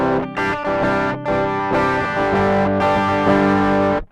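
An electric guitar plays through an Amazon Basics overdrive pedal set to lighter distortion: sustained, overdriven chords with a few quick strums and gaps, the tone buzzy and thick, with no talking.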